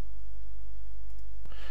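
A single sharp computer mouse click, clicking through inventory listing software, lands near the end of an otherwise quiet stretch with a low steady hum.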